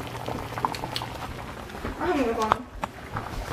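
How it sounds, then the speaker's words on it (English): A steady bubbling, rolling boil close by, with a brief voice and some clatter over it. "And the water is boiling."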